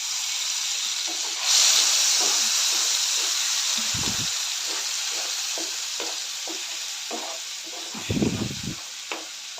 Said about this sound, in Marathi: टोमॅटो शेंगदाणेची ग्रेव्ही करून घेतलेले ते घालते ग्रेव्हीला तेल कुठेपर्यंत चांगलं परतून घ्यायचं आहे